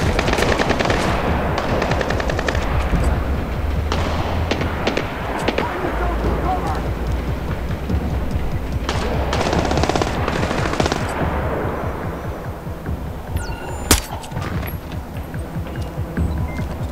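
Rapid automatic gunfire in Splinter Cell Blacklist, dense bursts of shots rattling for long stretches with brief pauses, then trailing off into scattered single reports and a sharp crack, with voices talking over it.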